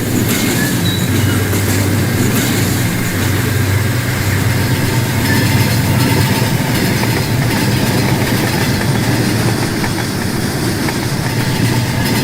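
A CSX train runs in the Rolling Line model railway game, giving a steady, loud rumble of wheels and engine with faint clickety-clack that carries unbroken from start to finish, with no voices.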